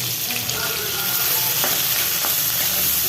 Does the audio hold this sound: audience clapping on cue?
no